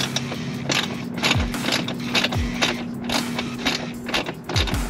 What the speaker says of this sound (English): Remove the three bolts.